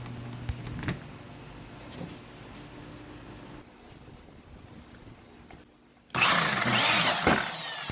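A Bosch hammer drill bursts on loudly near the end, a dense harsh whine after several seconds of quieter background hum with a few faint knocks.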